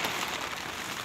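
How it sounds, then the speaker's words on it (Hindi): Heavy rain pours onto a house rooftop where a plastic sheet is being spread. It makes a brief, dense, unbroken hiss of close, steady downpour. "बहुत बारिश हो रही है यहाँ पर।"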